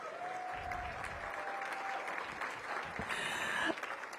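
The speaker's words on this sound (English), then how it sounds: "Give them a big round of applause." Quiet, steady applause from a seated audience at a press event for Mayor Bowser's FY23 budget release carries on at a distance, with a faint tone and some handling noise near the end.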